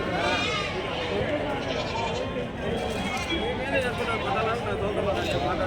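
Goats bleat over and over at the Angallu goat market, a dense chorus of near and distant calls overlapping with steady crowd chatter and people talking throughout.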